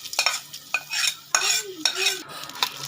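Hot tempering with curry leaves poured into a pan for Navaratri prasadam, short bursts of crackling sizzle and a few clinks of a spoon against the vessel, close and fairly quiet.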